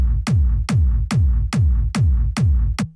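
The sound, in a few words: top kick drum sound on its own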